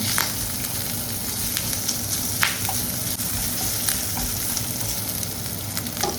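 Garlic and bacon frying together in a pan, a loud continuous sizzle with sharp crackles and pops scattered throughout and occasional stirring scrapes, no voices.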